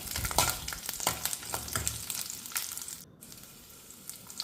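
Dried red chillies and garlic frying in oil for a chutney, a close crackling sizzle with a few stirring scrapes, louder at first and then thinning to a quieter hiss.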